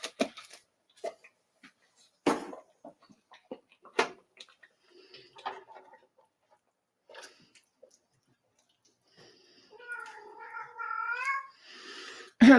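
Cat meowing and purring nearby in a kitchen, scattered soft sounds and taps, then a clear rising meow late on, fairly quiet overall without talk.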